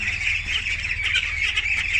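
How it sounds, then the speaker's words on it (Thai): A crowd of 25-day-old laying ducklings chattering and peeping continuously, a dense overlapping chorus close by with no talking. "ลูกเป็ดไข่อายุ 25 วันแล้วครับ"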